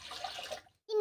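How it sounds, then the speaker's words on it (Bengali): Water is poured into a cooking pot for dal, a short, faint splashing rush that stops abruptly, followed by a brief voice starting at the end. "তিন বাটি জল দিলাম।"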